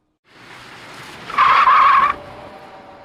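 A tire skid sound effect auditioned for a video game: a loud, sharp squeal of about three quarters of a second rises abruptly out of a low rumbling engine-like bed, then cuts back to the steady rumble.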